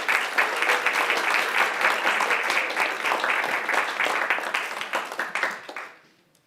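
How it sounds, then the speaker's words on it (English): An audience at a civil rights talk applauds a speaker with dense, steady clapping that holds for several seconds, then quickly tapers off and stops. "Give a round of applause for Dr. Curry."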